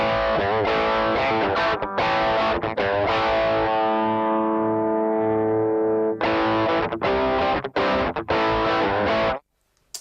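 Electric bass played through a BOSS GT-10B multi-effects unit into a direct box, giving a loud, distorted, sustained tone. Notes are struck in quick succession, with a long held note in the middle, then a sudden cutoff near the end.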